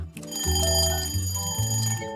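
A kitchen oven timer rings alone in a short run of loud electronic beeping tones, close and clear, while a snake-shaped cake bakes.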